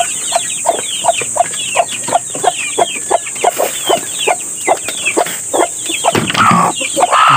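Chicks peep and cheep in a rapid, steady series of sharp high calls during feeding, close and clear, with light scuffling and a brief louder bird call near the end.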